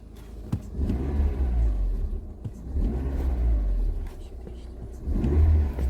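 A car engine just started and switched over to LPG idles steadily with a low rumble close by, with a few sharp clicks and faint background noise.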